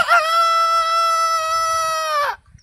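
A man imitates a rooster crowing, one long drawn-out cock-a-doodle-doo held for about two seconds, loud and close, then cut off into quiet.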